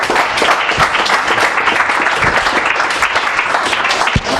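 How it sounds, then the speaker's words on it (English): An audience at a talk on Frederick Douglass gives a warm round of applause, dense steady clapping from many hands filling the room, fairly loud and close. "let's give him a warm round of applause"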